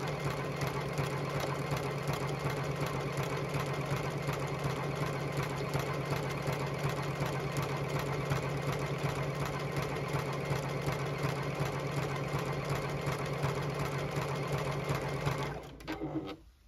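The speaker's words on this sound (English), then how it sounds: "I am going to sew continuous lines of this triple stitch." A JUKI sewing machine runs continuously while sewing lines of triple stitch, a steady close mechanical whir with a fast even rhythm that holds for about fifteen seconds before stopping abruptly.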